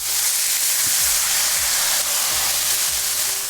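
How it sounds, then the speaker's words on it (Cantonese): Rice noodles pan-fry in plenty of hot oil, giving a loud continuous hissing sizzle up close, with a few low thumps underneath. "We'll let the noodles pan fry for 1 to 2 minutes without moving them."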